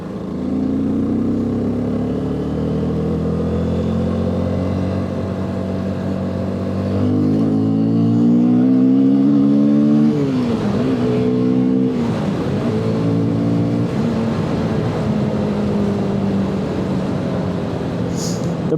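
A motorbike engine drones loud and close on a late night cruise, its pitch climbing and falling with the throttle, with brief talk over the steady roar.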